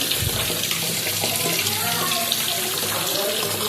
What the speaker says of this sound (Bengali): সাবান দিয়ে হাতটা ধুই